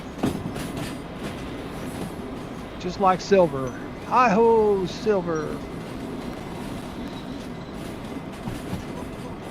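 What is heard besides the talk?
train running on rails in the video game Derail Valley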